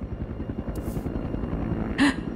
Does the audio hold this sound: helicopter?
yes